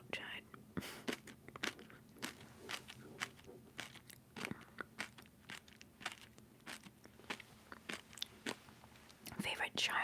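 Someone bites and chews crunchy lemon-flavored jelly candy with a hard candy shell, giving sharp repeated crunches close to the microphone, with whispered talk between the bites.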